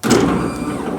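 The power window glass in a GTO restomod door drops in free fall with no spring on the motor and slams into its stop. It gives one loud, close thump, and a dull rattling ring follows.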